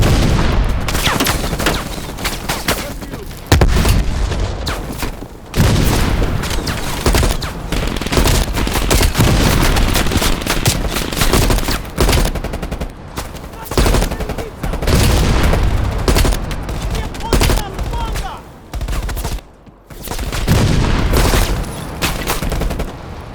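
Dense combat in Call of Duty: Black Ops Cold War, with continuous loud automatic gunfire, rapid bursts and heavy booms from RPG launches and blasts piling up for the whole stretch with only brief lulls.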